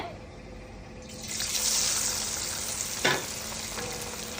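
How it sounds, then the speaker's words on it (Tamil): A sudden loud sizzle breaks out as chicken hits hot oil, followed by steady close frying with a brief clatter. "இப்போ நம்ம வந்து அந்த கிளறின சிக்கன் வந்து நம்ம போட போகிறோம்."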